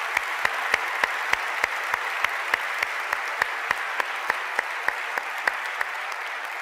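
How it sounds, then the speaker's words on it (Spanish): Audience at a leadership talk applauding in honour of the speaker's late father, a sustained wash of clapping with distinct individual claps repeating at a steady rhythm. "les voy a pedir encarecidamente un aplauso por él"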